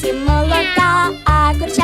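A cat meows three times in quick succession, close and loud, each call rising and falling.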